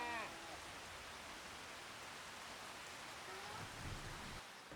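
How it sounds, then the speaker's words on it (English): Steady rain falls in the Farming Simulator 25 video game, a soft, even hiss of fine drops that holds throughout with no talk. "We dry? Nope, still raining."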